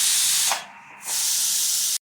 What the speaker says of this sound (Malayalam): കുക്കറിൻ്റെ പ്രഷർ കളഞ്ഞിട്ട് വേണം കുക്കർ തുറക്കാൻ.